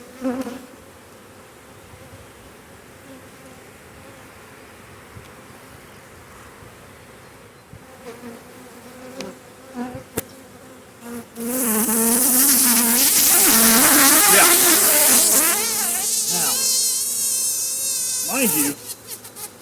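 Honey bees buzz around an opened hive during a Demaree swarm-control inspection. A thin, scattered hum with handling knocks swells midway into a loud, dense swarm buzz that stays close and intense.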